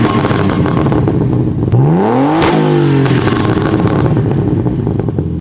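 A car engine revs hard with its idle control valve opened wider, the pitch sweeping up and dropping back through several loud rising-and-falling surges, with rattly clatter throughout; no distinct backfire pops stand out.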